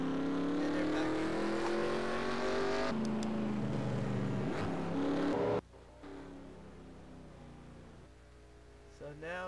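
Race cars roar past during a stock car racing event, a loud continuous engine drone with rising and falling pitch for several seconds before dropping to quieter, more distant running, with brief commentary underneath.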